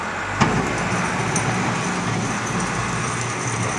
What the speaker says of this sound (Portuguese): O trator tá aqui tirando, ó.